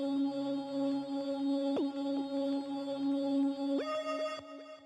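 Monophonic DX7 analog lab synth patch playing a sustained, steady tone with a few short note changes and bright attacks, alone and moderately quiet.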